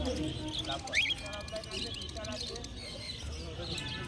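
Small caged birds, including white finches, chirp and tweet in scattered bursts against a busy background of crowd noise and talking at the Monday bird market in Garia, Kolkata.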